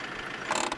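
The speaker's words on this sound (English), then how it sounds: "Regarding sounds of the engine, I don't think it's very good" Land Rover Defender 90 in SnowRunner climbs King of the Hill with a steady mid-pitched engine drone that swells slightly toward the end, alone and moderately loud.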